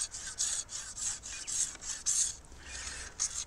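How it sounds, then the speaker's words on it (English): A bamboo cane dart shaft scraped with a hand scraper, making steady rhythmic rasping strokes at about two per second, close and dry, with no talk. "If you wanted to do this in a more primitive way, you might use a scraper like"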